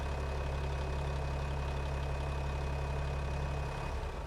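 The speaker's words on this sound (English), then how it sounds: "We're gonna park the tractor right here." A tractor engine idles with a steady low, throbbing drone and faint higher whine, close and constant, easing down slightly near the end.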